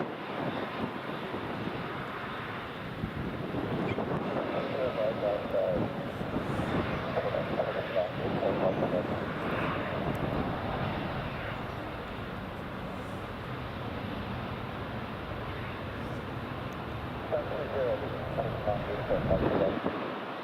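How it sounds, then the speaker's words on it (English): Airbus A340 airliner at Edinburgh Airport, a distant, low engine rumble that swells gently and lingers under wind noise, with light talk in the background. "Right, here goes the A340."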